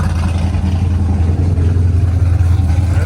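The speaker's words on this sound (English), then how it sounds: "That's coming from that black Camaro going over there." A black Camaro drives past at a street rod show in Louisville, Kentucky, its steady low engine rumble holding loud and continuous throughout with no voices over it.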